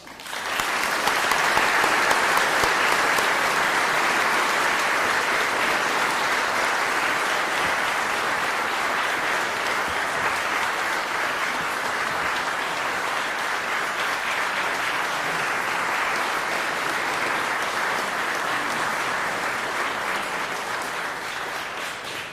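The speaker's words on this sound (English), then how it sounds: "Please join me in a round of applause" Sustained applause from an audience at a civic association annual meeting, honoring a new lifetime honorary chairman; steady, full clapping for about twenty seconds without talk, gradually easing slightly toward the end.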